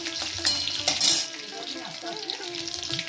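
Green chilies hit hot oil already sizzling with bay leaf, cumin and garam masala. Sharp crackling bursts rise over a continuous fry, close by, with a voice faintly present.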